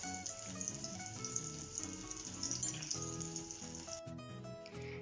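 Thinly sliced onions fry in hot ghee with a soft, steady sizzle and light crackle, a quiet close-up sound at a low level throughout, with some background clatter near the end.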